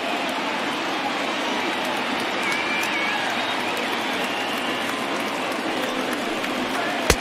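A simulated baseball crowd of over 39,000 roars in MLB The Show 20 during an A's at Dodgers game, a steady, dense wall of cheering that holds at full loudness for the whole stretch, with one sharp click just before the end.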